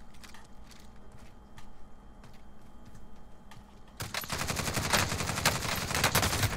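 Loud burst of gunfire erupts partway through in Warzone, a rapid run of sharp shots following a quieter stretch of ambient game noise, with the Hauer 77 shotgun in play.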